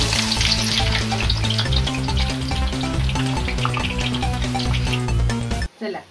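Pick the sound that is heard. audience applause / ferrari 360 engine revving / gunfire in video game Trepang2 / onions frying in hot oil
onions frying in hot oil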